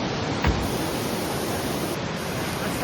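A flooding creek rushes in a steady, loud broadband roar, close by and unbroken, with a brief thump near the start and no voices.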